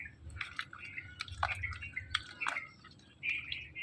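Raw green mangoes washed by hand in water for pickle, with close wet drips, small splashes and squishy handling, and faint bird chirps around.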